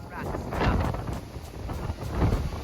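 Strong gusts buffet the microphone, producing loud, rumbling low-end blasts that rise and fall unevenly across the clip.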